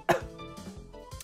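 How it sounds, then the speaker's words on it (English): A single sharp cough close to the microphone, followed by faint throaty vocal noises over a low background. "God, this cough is ending me,"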